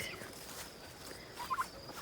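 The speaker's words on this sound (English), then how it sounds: "The turkeys are out." Farmyard turkeys let out two quick gobbling bursts near the end, faint and fairly close, over a low background hum on a small homestead.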